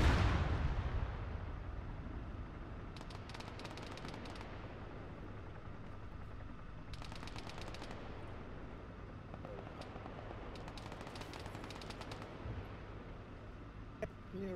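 Gunfire in a Tom Clancy shooter video game, bursts of rapid shots crackling in a few separate volleys over a steady low rumble, with a voice talking at the start.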